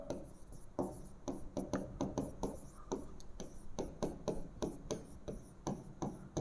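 A mathematical expression being written on a board in a physics class, with brisk rhythmic scratches and taps of the writing tool repeating steadily and close, unaccompanied by speech.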